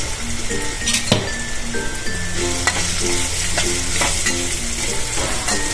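Vegetables and ingredients for a paneer curry frying in hot oil in a pan over a low gas flame, a steady close sizzle broken by repeated stirring clinks of a spoon against the pan.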